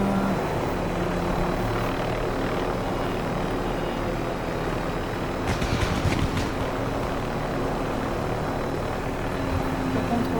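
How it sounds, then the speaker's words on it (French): A helicopter in the video game Call of Duty: Warzone gives a constant, dense rotor-and-engine roar, steady and loud, with a brief rattling burst midway. "est-ce que je vais réussir à me poser sans faire tomber l'hélicoptère?"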